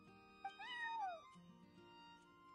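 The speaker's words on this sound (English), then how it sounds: "that's my neighbor's cat" A single cat meowing nearby, one drawn-out rising and falling call, soft and clear over quiet game background music during a Genshin Impact stream.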